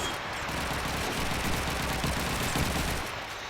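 Continuous dense gunfire in a Call of Duty 2 match on the Dawnville map, a loud, unbroken wash of rapid shots and bursts filling the whole stretch without any speech.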